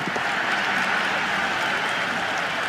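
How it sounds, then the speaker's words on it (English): A stadium crowd in the cricket video game Cricket 26 applauds and cheers after a boundary in an India vs New Zealand T20 match, producing a dense steady roar of clapping that stays loud throughout with no talking. "The crowd love that one."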